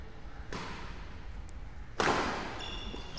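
A powerful smash in a men's singles badminton match strikes the shuttlecock with two crisp, sharp thwacks about a second and a half apart in an indoor hall, the second louder, with a brief squeak after.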